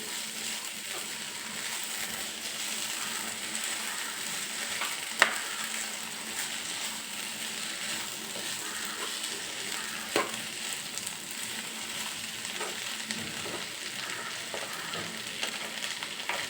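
Potatoes fry in a pan with salt mixed in, giving a constant soft sizzle, with a few faint scrapes and clinks from stirring, and no talking.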